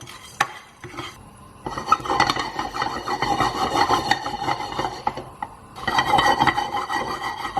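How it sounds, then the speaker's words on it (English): Cumin seeds, a cinnamon stick and cloves being dry roasted and stirred in a pan, giving a continuous dry scraping and rasping rattle in uneven strokes, fairly close, with no talking. "So we're just going to roast this till it changes color and releases its aroma"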